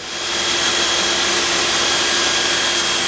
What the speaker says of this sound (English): then belt sand that corner off a little bit